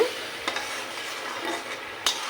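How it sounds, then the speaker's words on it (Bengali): Spices fry with shrimp in a pan as the base for a taro curry, giving a soft, steady sizzle. Two sharp spoon knocks against the pan stand out, one early and one near the end, with no speech. "কচুরমুখী রান্নার জন্য মশলা কষিয়ে নিচ্ছি চিংড়া মাছ দিয়ে"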